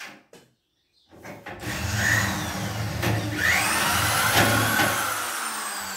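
A 3.2 mm drill bit bores out a 3 mm rivet on the upper track of a corner shower enclosure, a steady close whirring grind after a few short taps, lasting several seconds.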